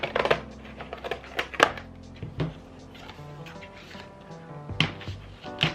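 Scissors snipping through stiff manufactured packaging, with several sharp clicks and cuts spread irregularly over a few seconds, close and moderately loud, mixed with handling rustle.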